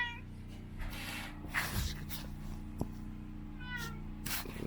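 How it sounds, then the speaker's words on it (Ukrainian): A cat meows several times at close range, its cries rising and falling over a steady low hum in a workshop. "Семен, ти куди? Мяу"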